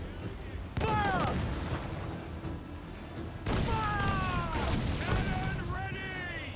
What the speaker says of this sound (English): Cannon ready!